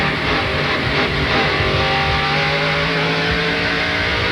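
NASCAR Craftsman Truck Series racing pickup at Watkins Glen powering out of a corner, a loud continuous engine roar under acceleration with a gritty, rising tone throughout.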